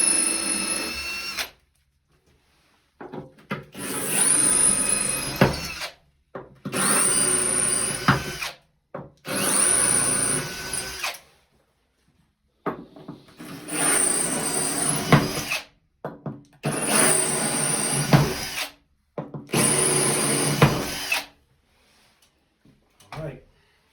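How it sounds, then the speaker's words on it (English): A power drill boring holes for a shower grab bar install, running in about seven bursts of several seconds each with a high whine, separated by short quiet pauses. "Let the drill do the work."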